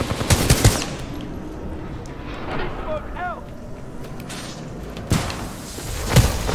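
Gunfire in the shooter Titanfall 2 during the Kane boss fight: loud bursts of rapid weapon fire and impacts come in clusters over a busy, rumbling battle background, with voices mixed in.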